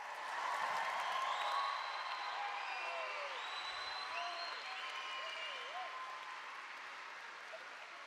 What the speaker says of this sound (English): How about one more round of applause for this class?